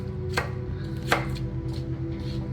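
Knife chopping shallot on a cutting board, a few crisp sharp chops spaced apart over a steady low hum, close and clear with no talking.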